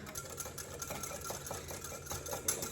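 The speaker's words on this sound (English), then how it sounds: "I'm gonna take my frother and just like make sure it's like a mini whisk" A small handheld milk frother whirs steadily while blending pumpkin into espresso, a faint continuous buzzing hum with a slight rhythmic flutter and no voices.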